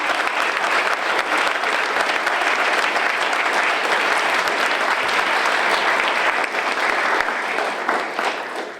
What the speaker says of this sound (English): the candidates do deserve a round of applause for those amazing answers